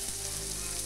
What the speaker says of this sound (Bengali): কুমড়োগুলো সুন্দর ভাজা ভাজা হতেই এগুলো আমি তুলে নেব।